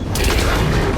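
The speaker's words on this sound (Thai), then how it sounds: "ระเบิดไปทีนึง" An explosion in the video game Middle-earth: Shadow of War, a single short, loud, broad boom that rumbles for about a second.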